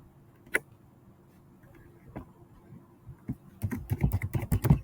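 Typing on a computer keyboard: a few scattered keystrokes at first, then a quick, steady run of close clicking taps toward the end, alone without talk.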